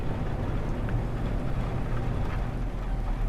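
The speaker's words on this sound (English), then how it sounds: "I can hear a bit of rain." Rain in the No Man's Sky video game, a steady low rumbling hiss with scattered soft patters, constant and moderately quiet throughout.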